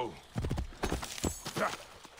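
Horse hooves clip-clopping in the video game Assassin's Creed Origins, a quick run of close, loud hoof strikes with a brief whinny, over background game ambience.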